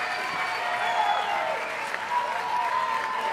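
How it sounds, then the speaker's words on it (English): Crowd applause and cheering at a live Honky Talkin country music show, much of it piped in as added crowd sound, forming a steady dense wash of clapping and whoops throughout, with no talk over it. "This is a great crowd tonight, even though I had to pump in most of that sound."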